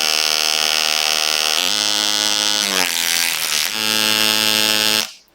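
A TinyHawk 2 drone's motor 3 spins during a Betaflight motor test, a loud high-pitched electric whine that steps up and down in pitch several times before cutting off abruptly near the end.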